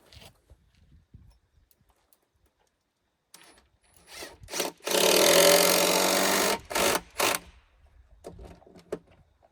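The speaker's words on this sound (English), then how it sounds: "Just screwing it down." A power drill whirs in a sustained burst followed by short stuttering pulses as screws are driven into wooden deck boards on 5x5 and 4x4 framing, close and fairly loud against otherwise quiet surroundings.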